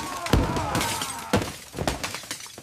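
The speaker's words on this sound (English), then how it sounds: "He's smashing everything." Objects are smashed and break in several sharp crashes spaced about a second apart, with shattering debris and scattered smaller knocks between the hits.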